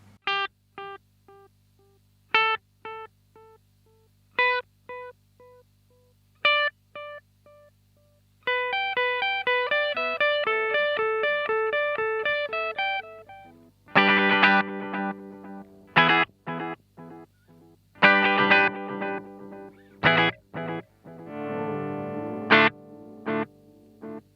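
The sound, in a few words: electric guitar through echo delay pedal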